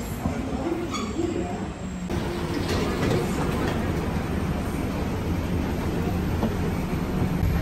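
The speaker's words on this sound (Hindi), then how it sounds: "ये हमारी ट्रेन लेके जा रही है हमें हमारे दूसरे टर्मिनल पे" An airport terminal shuttle train carries passengers between terminals, giving a steady, close rumble and hum throughout the ride, with faint muffled voices in the car.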